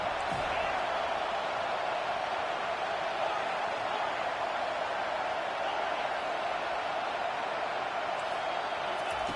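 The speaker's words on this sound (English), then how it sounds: "Decibels rising as the crowd gets behind this defense on third down" Football stadium crowd at a college game roaring for the defense on third down, a dense, sustained wall of cheering that stays loud and even throughout, with a commentator's voice blended into the din.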